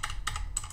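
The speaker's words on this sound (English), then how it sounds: "So now what I'm going to do is go to CLI and type the single command" Keys on a computer keyboard clack in a quick burst of three or four close, crisp presses while a command is typed at a CLI.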